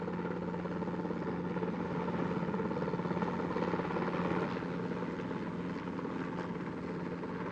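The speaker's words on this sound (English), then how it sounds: "the helicopter you can hear above is possibly Warren Bolster" Helicopter flying overhead above big winter surf at Waimea, a steady rotor thrum with a low droning hum, moderately distant and continuous throughout.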